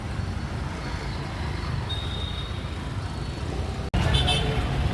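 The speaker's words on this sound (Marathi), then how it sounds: "मुखार इतलो ट्रॅफिक जॅम लागला जसो काय व्हडल्या शारांतलो मोठें जंक्शन" Heavy, congested traffic rumbles steadily at St Inez junction in Panaji, Goa, with engines idling and moving close by and a short car horn toot rising above the roar near the end.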